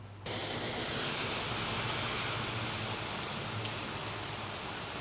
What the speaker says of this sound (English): I don't know if you can hear, but it is raining.